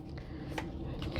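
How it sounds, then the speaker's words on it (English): A deck of tarot cards is shuffled close by. It makes a soft, faint riffling and rubbing with a few quick flicks, and no one speaks. "Let's shuffle this deck."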